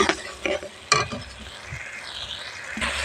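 Spice paste sautéing in a pan for a cauliflower roast, with close scraping stirs at the start, a sharp utensil clack near one second, and a steady sizzle running underneath throughout.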